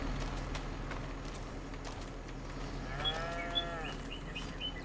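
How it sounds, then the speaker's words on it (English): Dairy cows in a farm pen in Wisconsin give a brief lowing call around the midpoint over a steady barn hum and background clatter, with occasional faint knocks. "cows get all wild on us."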